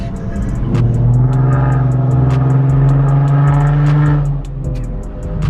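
A loud Honda car engine with test pipes revs hard and holds at high RPM with a strained exhaust drone, then eases off near the end.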